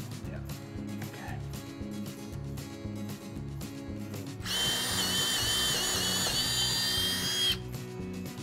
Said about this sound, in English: I got the holes drilled, and I just found to drill big enough for the rope to go through